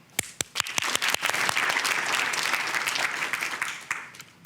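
A few sharp, scattered claps quickly swell into full studio-audience applause on a TV courtroom show, holding steady and then fading with isolated late claps.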